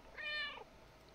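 A single short, faint meow from the cat in the video game Stray, rising and falling over about half a second before fading into quiet background.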